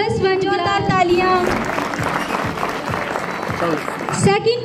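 Crowd claps steadily at a school annual function prize-giving, a broad wash of applause between short bursts of someone talking on a microphone at the start and end.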